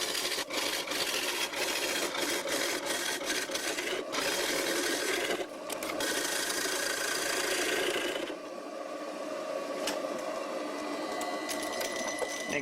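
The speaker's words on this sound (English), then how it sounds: "The lathe is running about 800 RPM." Homemade bowl gouge cutting wood on a lathe spinning at about 800 RPM, a steady close scraping and rasping with brief dips and shifts as the tool moves, continuous throughout with no talk.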